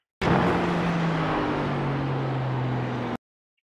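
A GT3 race car at Fuji in the iRacing sim lifts and brakes with a loud, steady engine drone whose pitch slides slowly downward for about three seconds, then cuts off abruptly.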